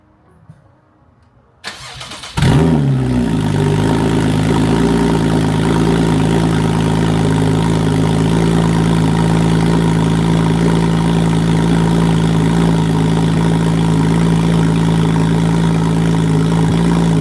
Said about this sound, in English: Time to hear that exhaust.